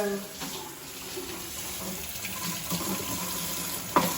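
Tap water runs steadily into a kitchen sink to rinse fresh rosemary, a continuous close wash of flowing water with a brief clatter near the end.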